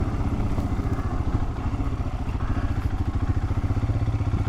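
A Royal Enfield Himalayan motorcycle carrying a pillion rides off-road, its single-cylinder engine thumping steadily and loudly up close, with rattling and rough-terrain clatter throughout.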